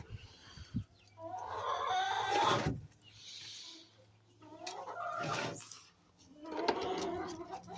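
Chickens cluck and call in short, loud bursts separated by brief quiet gaps, with a low hum underneath and a few faint bird notes in between.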